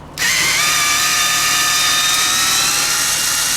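A power driver spins Torx T25 bolts out of a Weber/Edelbrock 500 four-barrel carburetor, starting abruptly into a loud, steady high whir that runs close and continuous for the whole stretch.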